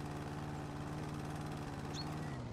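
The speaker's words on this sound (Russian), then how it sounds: "зацепился газонокосилкой за дом." Lawn mower engine in the House Flipper video game running steadily at a constant mid-pitched drone, loud and close, with a brief high chirp near the end.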